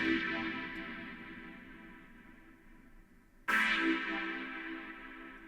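Lush, dubby synth stab soaked in delay and reverb effects, a long echoing chord tail that slowly fades before a fresh loud stab hits and rings out again.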